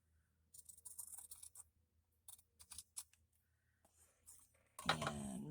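Scissors snip through a piece of lace in a series of short, crisp clicking cuts spread over several seconds, followed by a louder rustle near the end.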